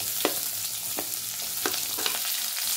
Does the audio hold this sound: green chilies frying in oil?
yes